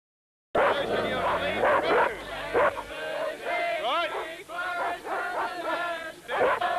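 A large police Alsatian barks and yelps repeatedly at protesters, loud and close, in a rapid irregular series that is sometimes whiny, with crowd voices and singing underneath.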